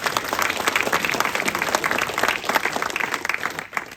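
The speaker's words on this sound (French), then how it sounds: "Mesdames et messieurs, je vous demande d'applaudir Yannick Rien" Audience applause welcoming a speaker to a talk on France and Russia, with a dense, sustained roar of clapping from a large crowd that holds steady throughout.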